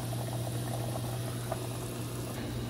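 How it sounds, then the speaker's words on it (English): Soup and noodles boil in pots on a stove, a steady bubbling and rumbling wash with a low continuous hum, close and even throughout with no voices. "Got my soup going and my noodles going."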